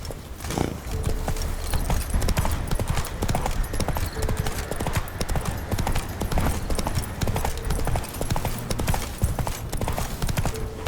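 A galloping horse in The Witcher 3 makes rapid, steady clip-clop hoofbeats that run loud and close for the whole stretch, with brief snorts and a faint whinny mixed in.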